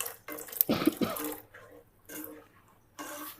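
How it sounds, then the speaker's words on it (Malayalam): Water poured into a pan of paneer butter masala gravy to thin it, a short splashing pour followed by brief trickles and pauses, close and moderately loud. "ഒരല്പം വെള്ളവും കൂടി ചേർത്ത് കൊടുത്ത് നമുക്കതൊന്ന് കുറച്ചൊന്ന് ലൂസാക്കാം"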